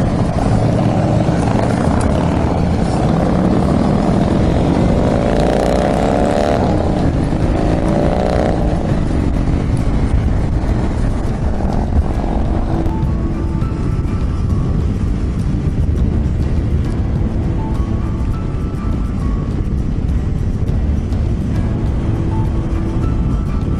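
A Harley-Davidson Dyna Low Rider motorcycle rides uphill on the road to York, its engine a loud, continuous close rumble with steady wind roar throughout.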